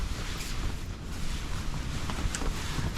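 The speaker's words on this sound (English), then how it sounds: "It's a little bit windy, but nothing that I wasn't expecting." Steady wind roars and buffets the microphone in a constant broadband rush while camping in late-season snow, with no voices.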